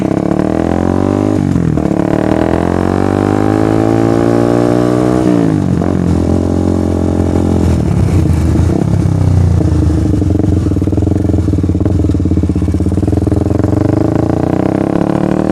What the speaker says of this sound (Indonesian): Nanti bakalan gue coba spill suaranya kalau misalkan digeber kayak gimana pada saat berhenti gitu.